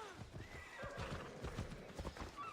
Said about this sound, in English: Look at my new horse.